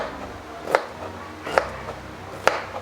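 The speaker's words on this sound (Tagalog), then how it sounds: "mag-chop-chop na tayo ng mga ingredients" Three sharp, evenly spaced knife chops through onions on a cutting board in a home kitchen, each a crisp close thud separated by quiet pauses.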